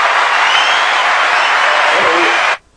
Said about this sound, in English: let's clap for the president